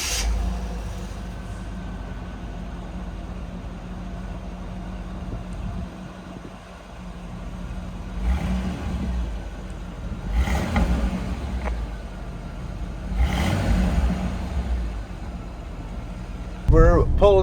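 A stock 1987 Chevrolet El Camino SS with a 305 V8 idles low and steady in a shop, with a few swelling revs; someone talks over the engine throughout.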